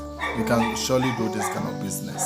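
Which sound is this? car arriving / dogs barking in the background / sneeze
dogs barking in the background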